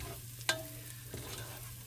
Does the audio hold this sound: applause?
no